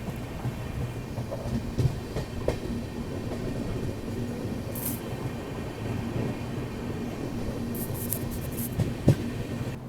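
Delhi–Jodhpur SF Express train picking up speed on the rails, with a steady loud rumble of wheels and carriages, scattered clicks and rattles, and a few sharper metallic knocks near the end; no voices.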